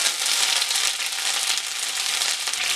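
Curry leaves and dried red chillies frying in hot oil with popped mustard seeds, a steady hissing sizzle that holds close and even throughout.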